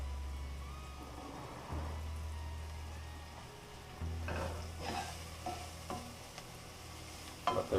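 Shallots fry gently in olive oil with a soft, even sizzle over a low hum, and a few light stirring taps come in toward the end.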